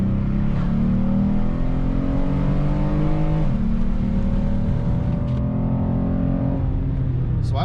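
A 2017 Chevrolet Colorado V6 fitted with an S&B intake accelerates on a road, its engine note rising steadily in pitch. The pitch drops briefly at a gear change, then climbs again, loud and continuous throughout.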